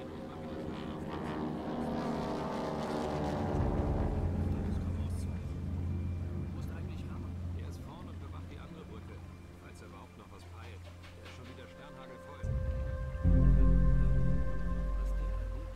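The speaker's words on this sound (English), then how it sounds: "Comes a helicopter" In the game Velvet Assassin, a helicopter's rotor drone swells as it approaches, growing louder across the scene, then breaks into a heavier, close rumble near the end, with a voice talking over it.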